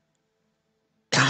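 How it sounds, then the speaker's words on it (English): A single short, harsh cough into a microphone, loud and close, following a near-silent lead-in. "Stop coughing in a damn microphone."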